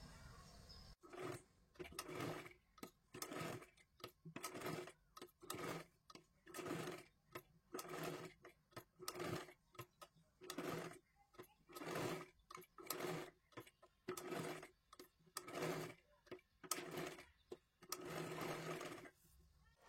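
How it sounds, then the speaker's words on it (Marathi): A sewing machine stitches a triangular tip on a katori blouse in many short, quick bursts with brief gaps between them, rhythmic and fairly quiet, with no voices. "हे पहा अशा पद्धतीने मी त्रिकोणी शिलाई मारलेली आहे"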